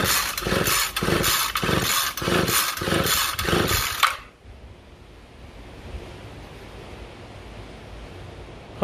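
A two-stroke weed whacker engine is pulled over repeatedly during a compression test, giving about seven rhythmic, loud, close whooshing bursts of cranking before stopping and leaving quiet background noise.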